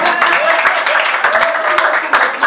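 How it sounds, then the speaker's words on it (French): Audience applause at an inauguration ceremony in Cameroon, a steady wash of many hands clapping that holds at an even, fairly loud level throughout without pauses. "Applaudissez pour lui."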